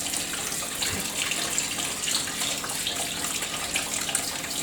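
Tap water runs steadily into a sieve of seeds being rinsed and squashed by hand, a close, continuous splashing hiss with small bursts as fingers move through the stream.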